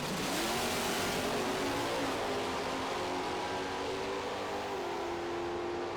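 Muscle cars at a drag race in Hickory, Kentucky, including a Stock Automatic 1970 Plymouth and a '69 Camaro: a dense, continuous engine roar with a rising pitch as they accelerate, loud and steady.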